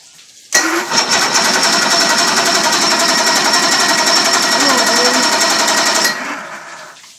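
An outboard engine on a HydroSports bass boat, powered from a jump box, cranks abruptly and churns in a loud, fast, rattling rhythm for about five seconds before cutting off and fading.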